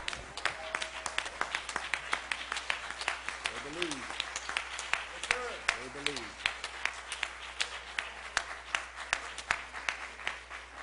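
Church congregation clapping in praise, steady rapid hand claps filling the room throughout while a preacher speaks over them and voices call out.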